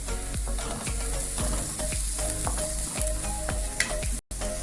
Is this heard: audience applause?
no